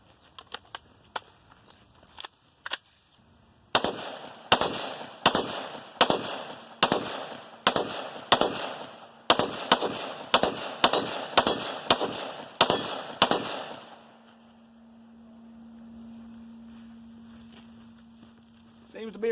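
Rapid series of sharp gunshots from an AR-15 rifle cleaned with a Carbon Boss tool, fired at an outdoor range with a backstop: about a dozen loud cracks in an irregular rhythm after a few lighter clicks, followed by a faint steady hum.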